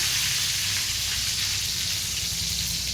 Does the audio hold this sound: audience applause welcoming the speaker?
no